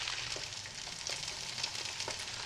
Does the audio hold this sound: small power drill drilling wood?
no